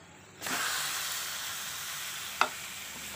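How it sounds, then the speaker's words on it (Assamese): Fish frying in hot oil with spices, added to onions and green chilli for a vegetable fish curry: a close, steady sizzle starts abruptly after a short quiet moment, with a sharp clink near the end. "অকণমান মছলাৰ লগত ভাজিম"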